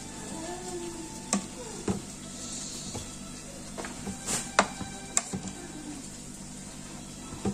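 A spoon stirring freshly cooked nasi liwet rice in a pot, with irregular scraping clicks and knocks scattered over a faint steady sizzle, close up and with no talking.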